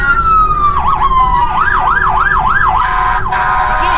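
A vehicle horn blaring at a trucker convoy gathering in Hagerstown, heard as a loud, close, continuous warbling siren-like wail that rises and falls rapidly.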